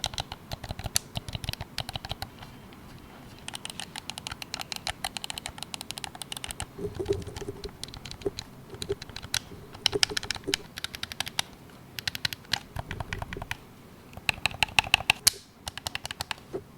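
Gamesir Nova 2 Lite budget gamepad buttons being pressed, a steady run of light plastic clicks and taps close up, in quick irregular bursts with short pauses, no talking.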